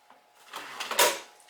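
A drawer slides open or shut nearby, making one brief rising scrape that ends in a soft bump, with no talking.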